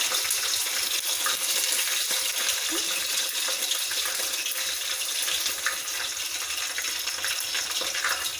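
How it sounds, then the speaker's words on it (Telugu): Tempering seeds dropped into hot oil for moong dal khichdi, giving a loud, steady, close sizzle with fine crackling that goes on unbroken, with no talking over it. "పోపు గింజలు కూడా వేసుకోవచ్చు."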